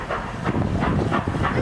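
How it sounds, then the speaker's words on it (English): A steam train at Walt Disney World rolls along its rails, a brief loud rumble with rhythmic clacking pulses, close and steady, with no talk over it. "There are some who say that this steam train is a little old-fashioned"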